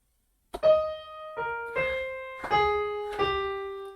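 Single keyboard notes from the green section of a song play one after another, five clean struck tones, each ringing and fading before the next, close and alone.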